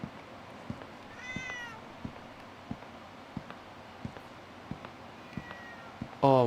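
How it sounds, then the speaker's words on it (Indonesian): A cat meows in a horror video game: two short, rising mews, faint over a quiet background with evenly spaced soft thumps, then a louder tonal burst at the very end. "Aduh, ada bunyi empus lagi."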